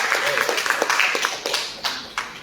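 Audience at a Marathi ghazal mushaira gives scattered applause, uneven claps rising and fading over a couple of seconds in a hall, with some background murmur.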